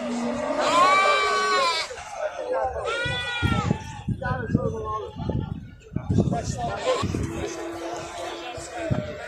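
Qala sheep and goats at an Azerbaijani livestock market bleat loudly and repeatedly, close by, with crowd chatter and people talking underneath.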